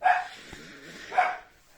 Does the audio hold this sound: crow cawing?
no